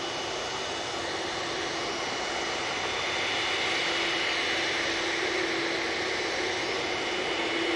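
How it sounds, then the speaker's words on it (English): An air tanker's jet engines spool up at Manchester Airport, a broad, steady roar heard from a distance that stays constant and gradually thickens, with no voices over it. "As soon as that air tanker looks to spool up, I will send it over there."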